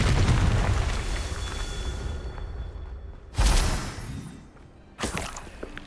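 Confringo fire spell blasting in the video game Hogwarts Legacy, one loud rumbling explosion that slowly fades, then two more booming bursts, close and with no talk.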